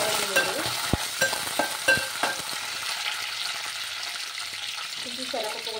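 Onion, ginger and peanuts fry in a pan with a few sharp stirring clatters early on, then a softer steady sizzle underneath, heard up close without speech.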